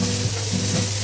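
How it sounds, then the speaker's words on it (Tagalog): Onions and garlic sautéing in a pan for a chicken and broccoli pasta dish, giving a steady, close sizzle with faint stirring scrapes, no voices. "Using the same pan, guys, let's saute our onions and garlic."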